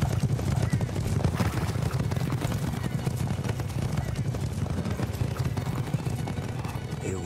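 Horses in a historical drama film, a busy, continuous clatter of hooves at close range with occasional whinnies, mixed with background rumble and faint talking.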